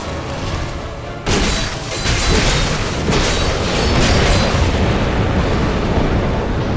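Dark Souls 2 enemy shooting fire, a sudden roaring blast that kicks in after a second and keeps rushing loudly with rumbling bursts layered over the steady roar, no talk.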